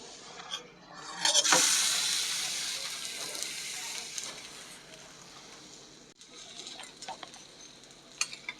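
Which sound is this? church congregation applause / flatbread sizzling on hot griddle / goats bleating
flatbread sizzling on hot griddle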